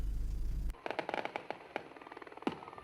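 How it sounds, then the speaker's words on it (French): Fireworks set off by a celebrating crowd of protesters outside a prison crackle and pop in a rapid, uneven string of distant bursts outdoors after an abrupt cut from a low rumble. "Feux d'artifice ou encore des cris de joie, ces manifestants sont venus par centaines"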